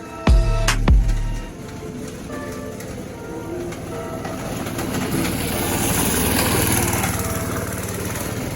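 A mini bike engine runs steadily at a dirt track, a continuous buzzing motor drone after two sharp bangs at the start, loud and close with no talk.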